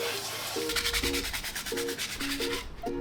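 A sponge with Simple Green cleaner scrubbing a car dashboard, rhythmic back-and-forth rubbing strokes, close and fairly loud, with a brief tonal squeak pattern repeating alongside.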